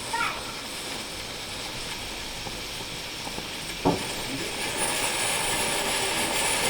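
A homemade alcohol vapor stove blows out vaporized gas with a steady rushing hiss, close and fairly loud, broken by a brief knock near the middle, while a person speaks over it.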